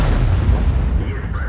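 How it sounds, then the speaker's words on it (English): A tank gun in World of Tanks, fired from an Object 268, sends off an armour-piercing round with a loud, deep boom whose heavy rumbling tail fills the whole moment. "Shot into his turret with an AP round."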